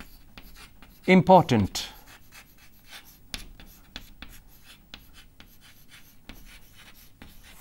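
Handwriting formulae on paper during a statistics lecture on regression and correlation, with faint scattered scratchy pen strokes through the clip and a brief spoken word near the start.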